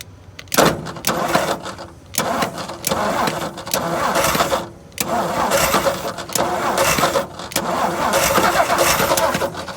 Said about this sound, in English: I'm gonna crank it over